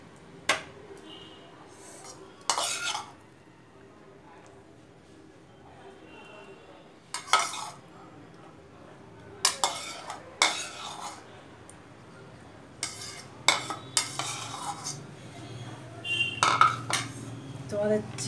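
Chicken kosha being stirred in a pan at home gives intermittent metallic clinks and scrapes of a utensil against cookware, scattered in short bursts between quiet stretches, with faint background hum.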